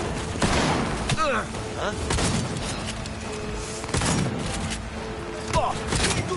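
Gunfire in the video game Cyberpunk 2077: repeated sharp shots and bursts of a firefight with booms and thuds, mixed with game sounds and a brief spoken exclamation.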